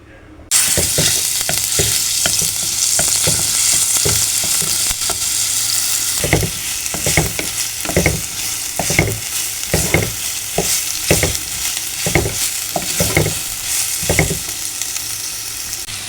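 Elambakka clams fry in a pan with a steady, loud sizzle, while a utensil stirs them in repeated scraping strokes that grow more frequent after the first few seconds; nobody speaks.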